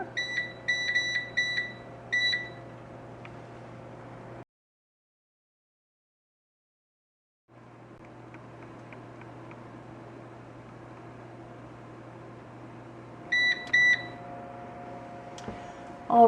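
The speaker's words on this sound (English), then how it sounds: "Set the timer." A kitchen timer set in a home kitchen for baking apricot rugelach gives rapid clusters of short, high beeps over a steady oven fan hum, falls silent briefly, then beeps again in another quick burst.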